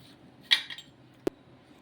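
Metal idli plates clink as they are handled in a kitchen: a bright metallic rattle followed by one sharp tap, then quiet.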